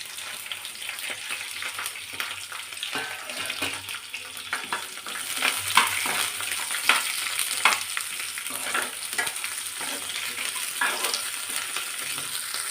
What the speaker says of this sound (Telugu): ఈ పల్లీలు బాగా ఫ్రై కావాలి